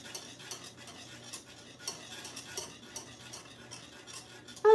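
A spoon stirs French silk pie mixture in a bowl, producing repeated soft scraping and light clinking strokes at close range, fairly quiet, with no talking.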